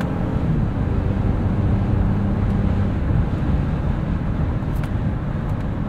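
A 2022 Honda Passport Trailsport AWD cruises on the highway at 70 mph and about 1,700 RPM, giving a steady, continuous low road and engine drone with no talk over it.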